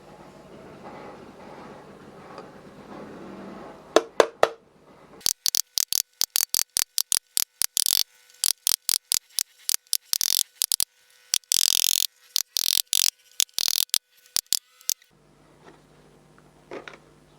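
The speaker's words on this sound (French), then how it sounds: "je vais utiliser un genre de burin qui est un peu arrondi au bout" Rounded chisel pressed and struck against sheet metal to emboss a zero, sharp rapid metallic taps and clicks in dense bursts, close and crisp, separated by brief silences.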